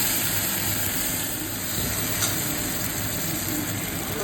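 Tomatoes and spices frying in a pan with ginger, a steady broadband sizzle and hiss running continuously without pause.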